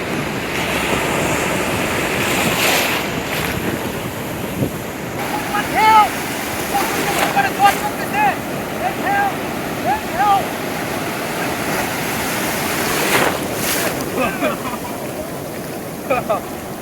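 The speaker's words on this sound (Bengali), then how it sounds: "ঢেউ এ দেখেন কি পরিমাণ ঢেউ" Loud surf rolls and crashes continuously on the shore at Sonapara beach, Cox's Bazar, during incoming high tide, with gusty wind buffeting the microphone and a few faint voices in the background.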